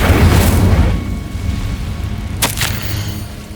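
The Incendio fire spell bursts in Hogwarts Legacy as a close, booming whoosh that fades into a rushing rumble, with a sharp crackle flaring later.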